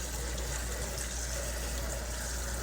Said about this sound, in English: So I'm rinsing the sprouts